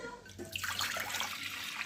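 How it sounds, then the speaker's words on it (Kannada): About a glass of water poured into a pressure cooker, a short, fairly quiet splashing rush of water with no talking. "ಒಂದು ಗ್ಲಾಸಷ್ಟು ನೀರು ಹಾಕ್ಕೊಂಡಿದ್ದೀನಿ ಒಂದು ಕುಕ್ಕರ್ಗೆ."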